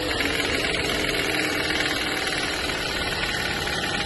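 A 2017 Toyota Corolla 1.8 16V engine runs steadily with a dense, constant mechanical drone and an abnormal noise, loud and close with no talking.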